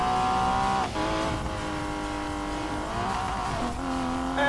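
Race car engines rev and whine in the Need for Speed Payback racing game, a loud steady high-pitched drone with shifting pitch and brief dips as gears change, alone without talk.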